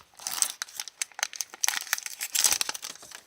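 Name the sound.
tearing open a Pokémon card booster pack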